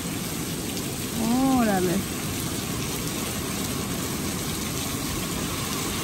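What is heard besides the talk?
rain falling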